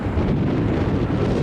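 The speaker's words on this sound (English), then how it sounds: "wind's blowing like crazy" Strong gusts buffet the microphone in a steady, loud roar during a road trip into New Mexico, with no voices.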